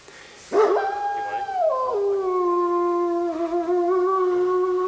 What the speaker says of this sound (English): That would be a wolf.